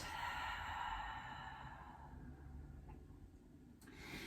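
A long, full exhale during a yoga session, close and breathy. It is strongest at the start and fades into quiet room noise, with a faint rub near the end.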